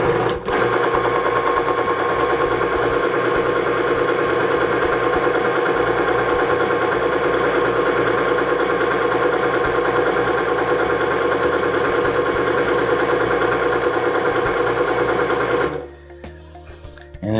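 A Lynrus winch motor runs in the down direction with a loud, steady mechanical whir and faint rising whine, continuing unbroken for about fifteen seconds before cutting off abruptly.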